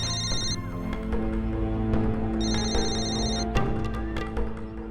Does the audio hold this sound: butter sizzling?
no